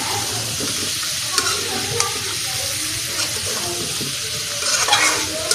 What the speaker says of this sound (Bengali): পেঁয়াজ কুচি দিয়ে এভাবে একটু লাড়িয়ে ছাড়িয়ে ভালো করে লাড়াছাড়া করতে হবে